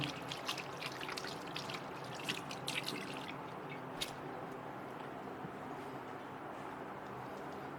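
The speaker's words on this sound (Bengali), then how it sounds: "দুই হাত সুন্দর করে ধুইতে হবে বন্ধুরা, না ধুয়ে খাবার খাওয়া যাবে না।" Water runs from a tap into a sink basin as both hands are washed, a steady close trickle with a few brief splashes early on, without talking.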